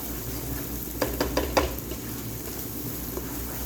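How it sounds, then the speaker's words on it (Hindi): Boiled chickpeas tumble into a hot pan of sizzling spiced masala, giving a few quick clattering hits over a steady frying hiss, close by with no talk. "बस अब मैं इसके अंदर चने शामिल करती हूँ।"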